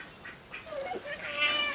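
A cat meows once in a short, fairly quiet call near the middle, followed by a rising, whiny cry at the end, against a soft outdoor background.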